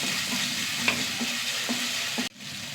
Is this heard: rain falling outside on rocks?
no